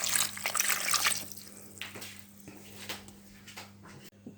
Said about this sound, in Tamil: இதில் இந்த கிழங்கு மூழ்கிற அளவுக்கு ஒரு 4-5 டம்ளர் தண்ணி ஊற்றணும்.